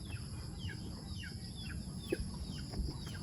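Pet chickens settling to roost at night give soft, repeated low clucks and short calls, faint and fairly distant over a steady hiss and a high electrical whine.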